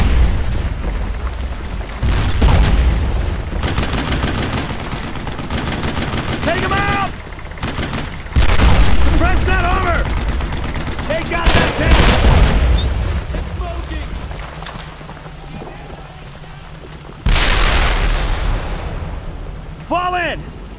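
Loud booming explosions and rattling machine-gun and rifle fire from a WWII firefight in Brothers in Arms: Road to Hill 30, with several heavy blasts and shouting voices over the combat.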